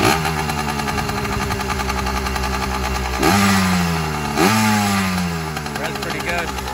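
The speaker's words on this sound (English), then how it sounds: "I'm gonna give it a little rev." A motorcycle engine with a CNC high-compression head, just back from a ride, idles steadily, then two quick throttle revs rise and fall sharply, loud and close.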